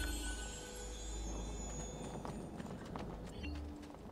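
Horse hooves in the video game Assassin's Creed 2, a steady clip-clop of a ridden horse over a low, continuous ambient game background.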